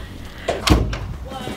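A door closing with a single firm thud in a play area, close by, with voices talking around it.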